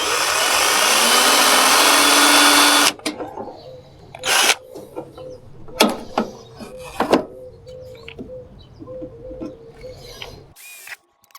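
A power drill whines loudly for a few seconds drilling a pilot hole in metal, then stops, followed by scattered clanks, knocks and handling noises of tools on metal.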